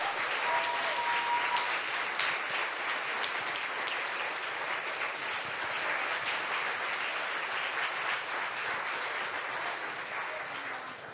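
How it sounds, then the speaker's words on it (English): Sustained audience applause for a youth panel at the Safer Internet Forum 2022, a dense, even roar of many hands clapping that holds for about ten seconds before easing slightly. "Let's give them another huge round of applause."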